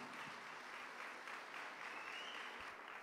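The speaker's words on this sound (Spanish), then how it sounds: "recibimos con un fuerte aplauso" An audience applauds to welcome a speaker at a public event with Oaxaca's governor-elect; the clapping is steady, dense and distant-sounding, holding evenly for about three seconds without talk.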